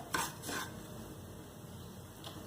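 Semolina (suji) being fried and stirred in a pan for an Aflatoon halwa sweet: two quick scraping strokes near the start, then a faint, steady low background with one more soft scrape near the end.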